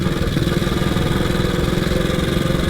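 A 1926 HRD Model 80 motorcycle with a Burman gearbox rides along in second gear, its engine a steady, loud, even drone with a faint whine running underneath throughout.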